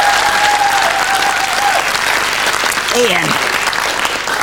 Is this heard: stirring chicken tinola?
no